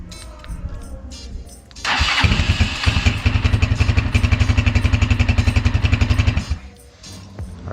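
A 2021 Honda Rebel 250cc motorcycle engine cranks and catches by remote start, then idles with a loud, rapid, even chugging before cutting off abruptly.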